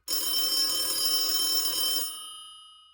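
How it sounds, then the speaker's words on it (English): An old-style telephone bell rings once in a sustained metallic trill for about two seconds, then fades away into silence. "landline telephone ringing."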